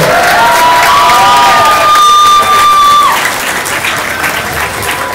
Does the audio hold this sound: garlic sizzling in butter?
no